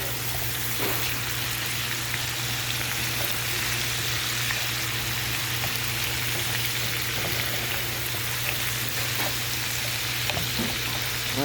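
Vegetables sauté steadily in a pan for bacon jalapeño cornbread, giving an even, continuous close sizzle with faint stirring ticks and a low steady hum underneath, with no talking.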